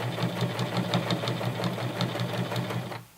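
A sewing machine with a denim needle sews down the three-layer leg hem of Levi's 550 jeans, a fast rhythmic mechanical chatter running continuously and close before stopping abruptly.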